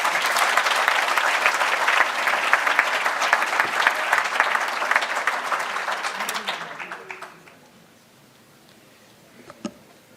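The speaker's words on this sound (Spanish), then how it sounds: "un aplauso, por favor" An audience at an award ceremony claps in a dense, loud round of applause that holds steady for about seven seconds before fading out, followed by a near-quiet room with one brief knock.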